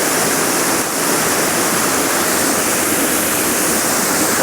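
Waterfalls at Thirlmere in the Lake District roar in a steady, loud, full-bodied rush of falling water that never lets up, with no voices over it.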